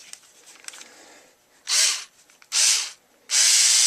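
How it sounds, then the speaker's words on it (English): Ryobi Tek4 4-volt lithium cordless screwdriver motor runs in three short whirring bursts, each about half a second long with pauses between, after some quiet handling clicks. "I want to do a little review of this Ryobi Tek4 Lithium screwdriver"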